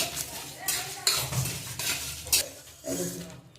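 Spice paste fries in a pan while a metal spoon stirs and scrapes it, giving repeated clinks and scraping strokes over a low sizzle, close up.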